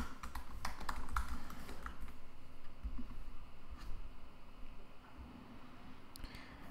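A password is typed on a computer keyboard, a quick close run of key clicks that is busiest early, then thins to scattered taps over a soft background hiss.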